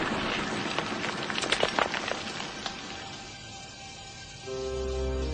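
Steady rain hisses evenly in a storybook scene, with scattered drop taps early on before a low tone swells in near the end.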